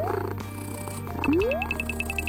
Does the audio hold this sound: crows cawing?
no